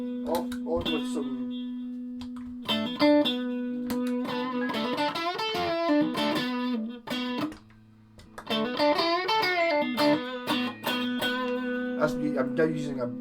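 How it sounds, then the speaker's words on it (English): An electric guitar, a Stratocaster through a Boss overdrive pedal, plays gritty, overdriven chords and single notes in bursts, with short gaps between phrases. "I'm now using a Boss overdrive pedal"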